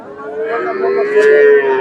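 A Holstein Friesian heifer at a cattle market in Mahasthangarh, Bangladesh, gives one long, close mooing call. No other sound competes with it.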